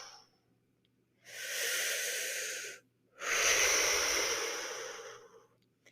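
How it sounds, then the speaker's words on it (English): Two long, deep breaths close to the mic, a full airy inhale followed after a short pause by a longer, louder exhale, with quiet between them. "I encourage them to have a big inhale where they're filling their belly, and then a big release where they're fully exhaling"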